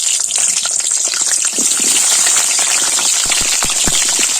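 Potato chunks frying in hot oil, a steady close hiss with scattered crackles and pops running throughout at high level.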